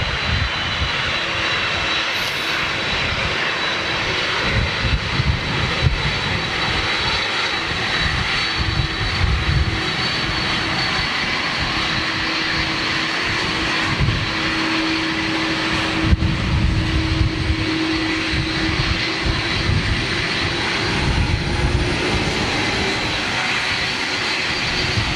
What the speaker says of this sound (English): Now we're going to get a jet blast from this. I can almost guarantee it as she turns on.